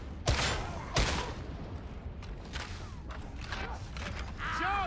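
Gunfire in a first-person shooter game: two sharp shots near the start, then a sustained rattle of weapon fire and mechanical clanks with scattered echoing reports throughout.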